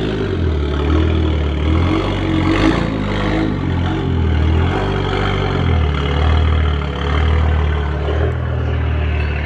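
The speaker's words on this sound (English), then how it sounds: "I swear his car sounds so good" Stage 2 tuned BMW 340i with flex fuel and a high-pressure fuel pump, engine idling with a deep rumble and repeated blips of revving rising and falling, heard close and loud.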